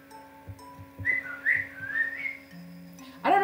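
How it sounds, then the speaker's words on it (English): A pet parrot whistles in short rising and falling tones across a few seconds, moderately close and fairly clear, with low thumps and a steady hum underneath and a brief louder noise at the end. "I don't know if you can hear my bird, but she's whistling up a storm."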